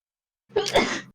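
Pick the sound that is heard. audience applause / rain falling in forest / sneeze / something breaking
sneeze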